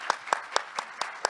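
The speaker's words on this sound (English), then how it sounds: "So if you guys give him a round of applause." An audience applauds as a son is recognized, though the clapping is sparse, with about six distinct claps evenly spaced, fairly close, over a light murmur.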